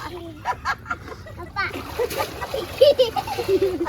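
Water splashes and sloshes in a canal in short bursts while children chatter and call out nearby, lively and close.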